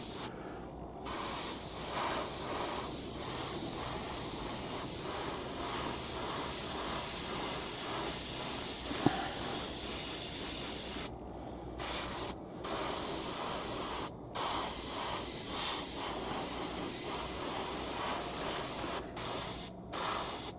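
An airbrush spraying primer gives a steady, close hiss in long continuous passes, broken by a few short pauses where the trigger is released, with no talking.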